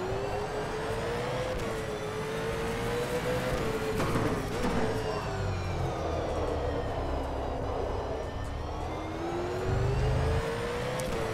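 A Virgin Australia Supercars race car in rFactor 2 at the Auckland 400 sends out a loud, continuous engine whine that rises and falls in pitch with shifts and corners, alone without talk.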